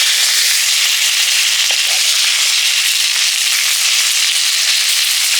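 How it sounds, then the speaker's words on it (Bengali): Steady, dense sizzling and crackling of a bhetki (barramundi) fish head frying in hot oil, loud and close, continuing evenly throughout. "ভেটকি মাছের মুড়ো ভাজা হয়ে গেছে, তুলে নেওয়া যায়।"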